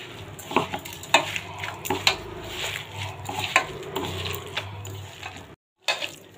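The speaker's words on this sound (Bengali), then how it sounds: "এবার এটা সব কিছু হাতের সাহায্যে খুব ভালোভাবে একটু চেপে চেপে মেখে নেব" Papaya dhoka mixture being kneaded and pressed by hand in a bowl, a quiet, close run of soft squishing and irregular thumps with a brief pause near the end.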